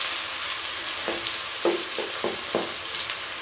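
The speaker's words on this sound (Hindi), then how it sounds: "इसमें तकरीबन 3 से 4 मिनट लग जाएंगे, तो इसको अभी हम फ्राई होने देंगे।" Onions and tomatoes frying in a pan, an even, moderate sizzle with a few soft stirring scrapes in the second half, nearby and free of talk.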